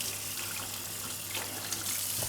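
Running tap water splashes steadily while hands are wetted to shape gluten-free, carbohydrate-reduced buns, a continuous close gush with small splashy bursts and no talk.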